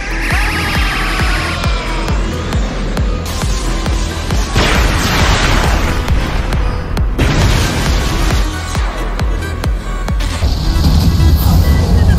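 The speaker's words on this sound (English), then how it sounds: "Devastating explosion." Loud, chaotic booming blasts from an anime-style fight scene, with crackling bursts and rumbling debris, rising and falling in heavy surges over about twelve seconds.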